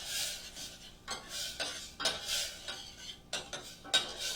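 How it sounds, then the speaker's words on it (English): Tomatoes are stirred into a pan with onions and spices, giving a spoon's repeated scraping and clinking against the pan along with a light background sizzle, close and moderately loud. "we're going to toss our tomatoes in there"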